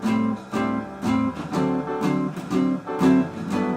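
An acoustic guitar plays big band chords rooted on the sixth string, short muted strums falling in a steady even rhythm, close and alone with no talking.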